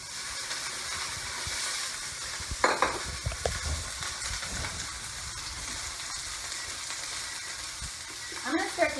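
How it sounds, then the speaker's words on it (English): Steady hiss of onions and peppers sizzling in a hot pan for a stir-fry, with a sharper crackling burst as something drops in, plus occasional scraping stirs. "And here it sizzles when it drops in."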